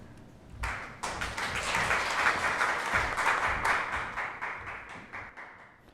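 A seminar audience breaks into applause: steady, fairly loud clapping from many hands that starts after a short lull and continues for about five seconds.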